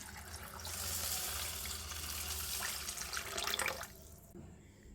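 Soaked grains for Thanjavur thavala adai are washed in water at a sink, with running and sloshing water flowing steadily for several seconds, swelling briefly before stopping near the end.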